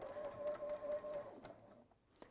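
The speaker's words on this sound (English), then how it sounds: "Going to do that little locking stitch thing and then come down." Sewing machine running a short locking stitch, a quick rhythmic whirring burst for about a second and a half, then stopping, fairly faint and with no voices.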